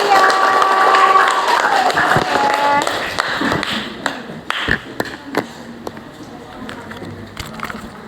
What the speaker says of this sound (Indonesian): Oke, beri tepuk tangan yang lebih keras lagi buat kalian.